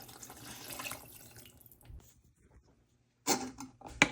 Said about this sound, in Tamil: அடித்ததை ஊற்றிட்டு அந்த கிண்ணத்தையும் கழுவி ஊற்றுங்களா